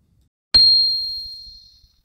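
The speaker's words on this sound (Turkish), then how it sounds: "Örneğin burada bulunan çan sesini çalmak istiyorum" A single bell notification chime played by a Home Assistant smart-home system rings out once, clear and loud, then decays smoothly into silence.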